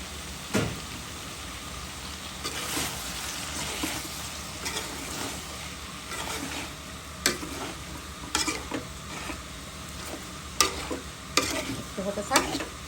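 Mixed eggplant, potato, yardlong beans and white gourd cooking in a pan: a soft steady sizzle broken by repeated scraping stirs and clacks of a spatula, close and moderately quiet.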